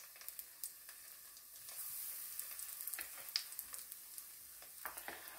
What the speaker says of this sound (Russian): Одну сторону я буду жарить кабачки под крышкой, а другая сторона уже будет жариться без крышки.